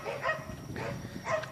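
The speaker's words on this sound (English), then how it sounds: "I really do wish those dogs would stop barking." Dogs bark at night on a quiet, empty street, a few faint, distant barks spaced across a second and a half.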